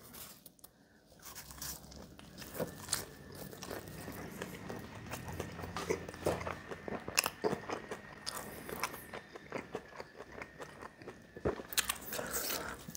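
Someone bites into a slice of sopressata pizza, with crisp crust crunches followed by close, quiet chewing and small crackles, no talking.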